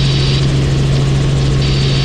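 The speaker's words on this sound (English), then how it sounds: "Got a Robinson helicopter just coming up on the southwest corner of the island." Robinson helicopter in flight over Key West, a loud, steady rotor and engine drone with a strong low hum, heard close up as if from the cabin, continuous and unbroken, no speech.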